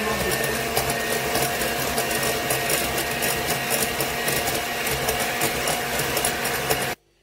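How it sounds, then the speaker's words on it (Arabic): An electric mixer beats eggs with sugar for an apple cake, its motor whirring loud and steady throughout before cutting off abruptly at the end. "هنبدا بقى نضرب كده يا حبايبنا السكر مع البيض"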